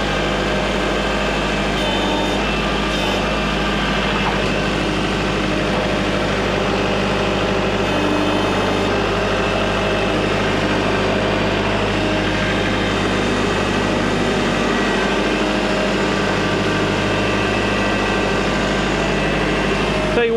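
A big old tractor engine rumbles steadily and loudly throughout, close by, a continuous low drone while the machine turns around in a muddy spot.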